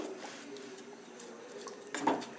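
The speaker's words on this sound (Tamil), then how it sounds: "நல்லா கிண்டி விட்டுட்டே இருங்க, இல்லாட்டி கட்டி கட்டியாக ஆயிரும்." A spoon scrapes and stirs thickening flour batter in a pan for Kerala-style palappam, a soft, steady scraping close by with a brief louder clink of utensil on pan near the end.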